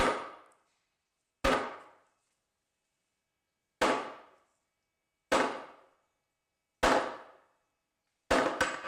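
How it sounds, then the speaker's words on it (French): A cast iron pressure cooker is dropped onto a kitchen countertop again and again, six sharp, loud impacts with short decaying rings, spaced irregularly with silence between them. "on pose une cocotte minute en fonte et il y a un choc"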